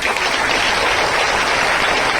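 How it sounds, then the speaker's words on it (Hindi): A church congregation at a Christian preaching service claps loudly and continuously in a dense, even wash of applause from start to finish. "जोरदार ताली बजाएं।"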